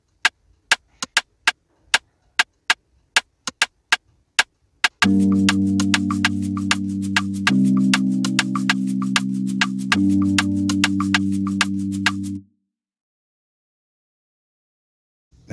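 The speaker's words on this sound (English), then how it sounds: "I combined different rim shots just to achieve a unique bounce to them" Sharp, dry rim shot clicks, several varieties combined, tick out alone in a sparse bouncing pattern, then a sustained low bass beat enters beneath them and both stop abruptly.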